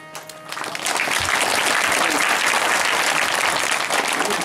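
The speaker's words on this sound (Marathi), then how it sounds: "म्हणून टाळी वाजवा." An audience at a Marathi devotional kirtan breaks into applause, a dense, sustained clapping from many hands that starts thinly and quickly fills in, staying loud and even for several seconds.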